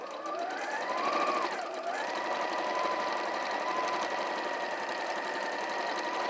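A sewing machine runs continuously while stitching a scant quarter-inch seam on fabric pieces, its motor humming close and steady with a brief dip and shift in pitch partway through.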